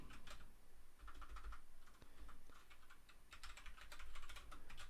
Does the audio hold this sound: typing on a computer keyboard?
yes